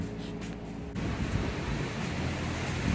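Strong wind roars around a cell tower, a loud, continuous broadband rush that buffets the microphone and swells slightly in gusts, with no one talking.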